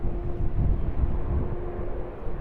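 A Jetstar Airbus A320-200 airliner at Sydney Airport gives off a steady, moderate jet rumble. A faint thin tone runs through it, along with some wind buffeting on the microphone.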